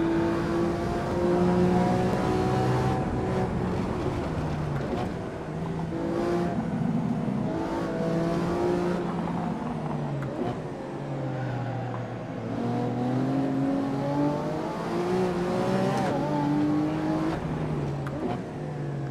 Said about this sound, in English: All-wheel drive drifts.